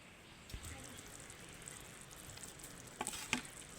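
Mustard-poppy masala sizzling in a pan after whole green chillies and large tomato chunks go in, a soft continuous fry with light crackles and a couple of sharper clatters near the end.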